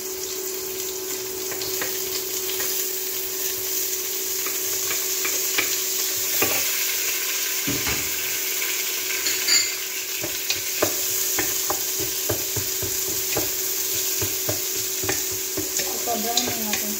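Food browning in a frying pan with steady sizzling and repeated scraping stirs of a utensil against the pan, close and continuous for the whole stretch, with no talk.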